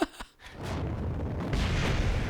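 A rocket explodes in Kerbal Space Program: a sharp blast and a second thump, then a sustained roaring rumble that swells again near the end.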